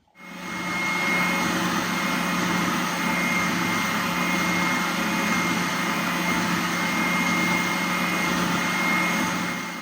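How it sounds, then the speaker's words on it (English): A steady, loud mechanical whir of a drum sander smoothing leather edges, running continuously, with a constant motor hum and grinding noise throughout and no pauses. "I'll just run around this on my drum sanding machine just to smooth up all these edges."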